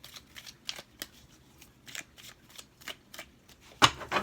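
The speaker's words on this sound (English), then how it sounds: "I'm going to shuffle 2 more times" A deck of tarot cards is shuffled up close in a series of quick, crisp riffling bursts with short gaps between them, ending in a louder final snap, with no talking.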